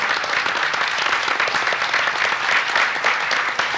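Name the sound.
applause for city staff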